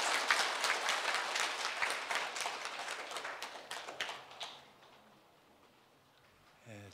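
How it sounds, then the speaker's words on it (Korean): A seated audience at a Buddhist broadcasting anniversary ceremony applauds warmly, dense clapping at full strength for about four seconds before fading out, followed by near silence. "힘찬 박수로 맞아주시기 바랍니다"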